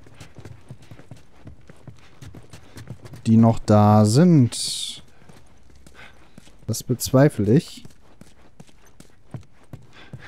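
Horses' hooves clip-clop at a walking pace in The Last of Us video game, a steady rhythm running under German dialogue from the characters.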